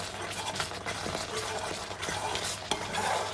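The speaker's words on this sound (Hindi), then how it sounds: "चमचा बराबर चलाते रहेंगे" A spoon stirs mango jam cooking on a low flame, giving continuous bubbling, scraping and clinking against the pot, close and fairly loud throughout.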